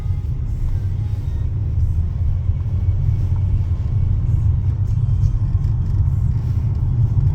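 A car pulls away through an Ankara Gölbaşı driving test course and shifts into second gear, its engine a steady low rumble close inside the cabin, continuous and even with no talking.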